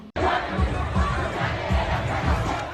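A big crowd partying on Bourbon Street in New Orleans during Mardi Gras roars and cheers steadily, with rhythmic thumping music under the mass of voices, loud and close.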